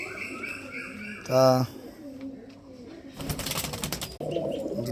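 Pigeons in a loft give a short, clear coo, then a burst of wing flapping a moment later, while someone talks quietly nearby.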